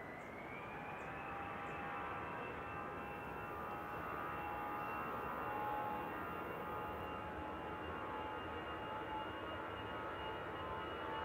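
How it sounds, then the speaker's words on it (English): A passenger jet arriving at Manchester Airport makes a steady, broad engine roar with a sustained whine, holding a fairly even level throughout with no talk over it. "Flight 1037 from Amsterdam, operated by PHEXP, a 7-year-old aircraft."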